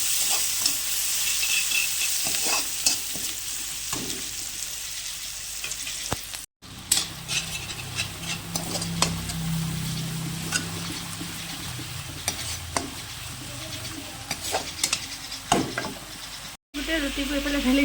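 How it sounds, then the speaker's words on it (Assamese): Broiler chicken pieces fry in a pan with a steady, close sizzle, broken by repeated scraping and stirring strokes and a brief cut partway through. "এইফালে ব্ৰইলাৰখিনি ফ্ৰাই কৰি আছোঁ ভাজি কৰি ল'লোঁ"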